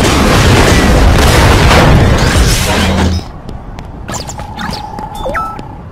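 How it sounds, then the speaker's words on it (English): Gunfire in the Generator Rex video game knocks a loose sign down: a loud, dense blast and crashing burst for about three seconds, then quieter scattered debris clatter and game effects. "Sign looks loose. Maybe if I shoot it down."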